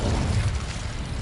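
In the Hogwarts Legacy video game, an Incendio fire spell is cast, producing a dull low whooshing burst of flame that rumbles loudly and then gradually tails off over about a second.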